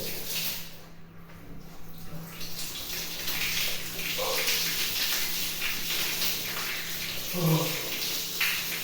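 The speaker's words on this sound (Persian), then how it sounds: "این آبی که میخوام بگیرم بسیار سرده." Very cold water pours over a person's body under a shower, a steady broadband splashing hiss running throughout, close and fairly loud, with brief voice sounds from the person under the spray.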